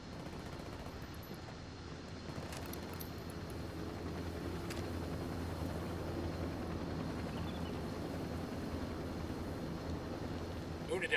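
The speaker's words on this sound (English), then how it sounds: "Chopper, hit the dirt." Enemy helicopter in the Ghost Recon Wildlands video game, a steady rotor drone that holds throughout under game noise and occasional sharp bursts, with voices talking over it.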